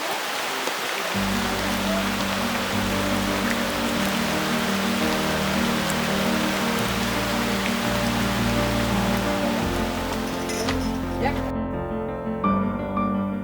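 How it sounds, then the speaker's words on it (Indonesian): Heavy rain falls steadily in a rural farming area and makes a dense, close patter that lasts throughout. A low droning hum sits underneath and then cuts out near the end. "kalau hujan seperti ini"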